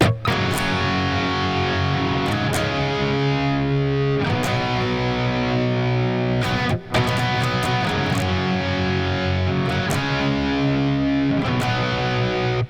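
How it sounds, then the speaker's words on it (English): Loud, thick distorted electric guitar power chords, strummed in sustained blocks, changing between three chords with brief muted breaks. "We're going to kick in some distortion here"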